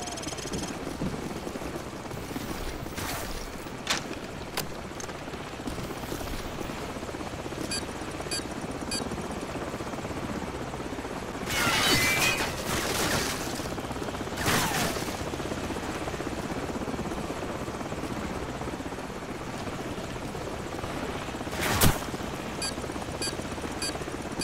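A Black Hawk helicopter in Call of Duty 4, with a continuous rotor thrum and buzz sustained throughout and sharp bursts of gunfire or explosions breaking through at intervals.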